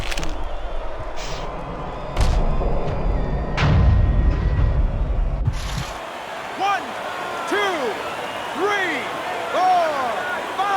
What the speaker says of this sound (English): yet another big shot comes in. And he goes down for the first time tonight.